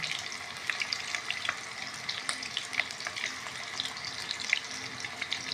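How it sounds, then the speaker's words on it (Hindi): Beef meatballs (motti) frying in a pan over a medium-low flame, a steady close sizzle with crackling pops throughout and no talk. "इन मोतियों को फ्राई करते जाएंगे। ये बहुत जल्दी फ्राई हो जाएंगे"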